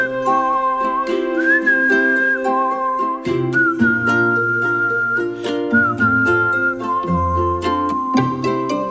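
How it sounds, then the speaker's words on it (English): A person whistles a clear, sustained melody on a studio-recorded fantasy game score track, the tune held in long notes above strings and woodwinds throughout. "I did make my professional debut as a whistler on one track"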